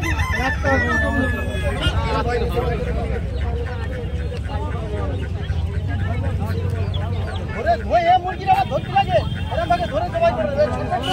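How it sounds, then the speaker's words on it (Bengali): Native village chickens brought from the countryside cluck and crow amid the busy din of a large rural weekly market in Kolkata, with bird calls repeating throughout under steady crowd noise and nearby talk. "দেখুন কত মুরগি"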